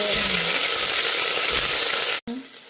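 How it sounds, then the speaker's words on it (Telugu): Ginger garlic paste frying in a hot pan for bagara rice gives a loud, close, unbroken sizzle that cuts out briefly just before the end and then resumes. No one speaks. "ఇప్పుడు అల్లం వెల్లుల్లిపాయ పేస్ట్ ఒక 2 స్పూన్స్ వేసుకోవాలి."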